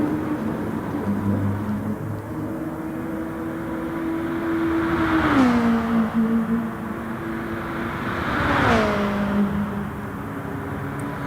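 GT race cars in a sim racing game at the Sardegna circuit, engines droning steadily with two swelling passes as cars sweep by and pitch shifts, over a constant mid-level roar.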